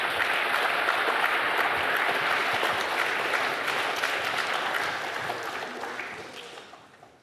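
A conference audience at a China-UK technology summit applauds its speakers in steady, dense clapping that fills the hall, then gradually thins and fades away over the last couple of seconds.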